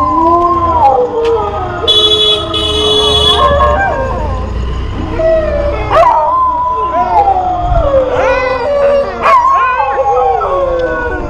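Several dogs in Jaisalmer, Rajasthan howl together in long, wavering cries that rise and fall, with occasional sharp yips and barks breaking in throughout.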